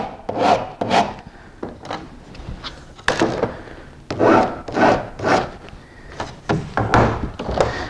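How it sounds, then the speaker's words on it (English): A square file rasping a 45-degree miter into hemmed sheet metal, with repeated close, loud scraping strokes in an irregular back-and-forth rhythm and brief knocks between them, no talk. "So what we're going to do is file a 45-degree miter"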